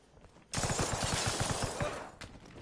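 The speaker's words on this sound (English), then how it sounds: "Gunfire near the church." A burst of rapid gunfire near a church in Arma Reforger crackles loudly for about two seconds, with quieter ambient noise before and after.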